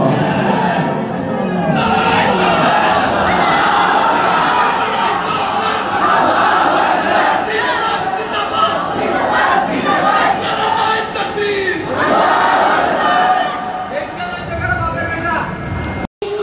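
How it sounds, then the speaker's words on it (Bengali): A student leads a crowd in voiced slogan chanting at an Islamic cultural evening of a Bengali madrasa, the group shouting back loudly and continuously with dense mixed voices throughout. "একজন ছাত্র ভাই দাঁড়িয়ে খালি কণ্ঠে দু একটা স্লোগান হবে"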